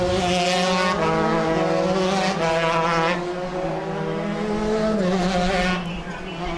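Open 125cc shifter karts lapping a race track, their high-revving two-stroke engines whining and shifting in overlapping passes, loud and sustained, one kart fading as another approaches.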